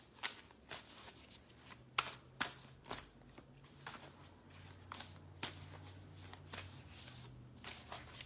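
Tarot cards are shuffled by hand in repeated soft riffles and slaps, close but quiet, with a faint steady hum underneath.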